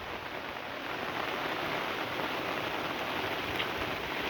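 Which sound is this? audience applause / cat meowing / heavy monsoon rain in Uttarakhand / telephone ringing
heavy monsoon rain in Uttarakhand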